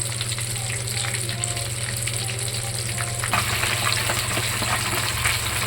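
Bandi-style fish pakoda pieces deep fry in a pan of oil, with a loud, dense, unbroken bubbling hiss over a low hum that grows rougher midway.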